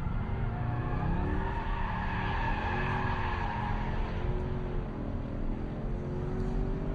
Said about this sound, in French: Le freinage, ça freine plutôt pas mal pour voir le poids de l'auto.